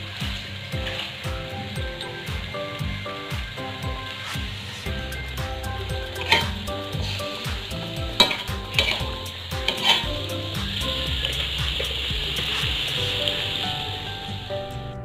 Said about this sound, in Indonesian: lanjut lagi kita goreng semua gemblongnya sampai habis.